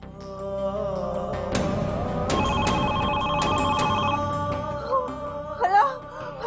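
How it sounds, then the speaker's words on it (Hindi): Telephone ringing in a domestic drama scene, a steady electronic ring that repeats through the scene over background music, with a brief voice near the end. "हया, हया फोन उठाओ"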